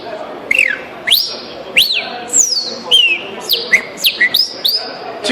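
A man whistles an imitation of the song of the Brazilian pássaro preto soldado, a series of sharp rising and falling whistled phrases repeated in quick bursts, close and clear with no speech.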